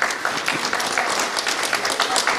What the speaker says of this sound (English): I want us to give a round of applause to our presenters who were very patient.